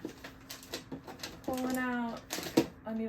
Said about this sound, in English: Sorry if you hear our cat meowing.